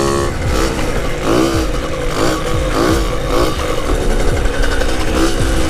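Moped engine revving hard through a wheelie, a steady buzzing drone that rises and falls in pitch, loud and close with no talking.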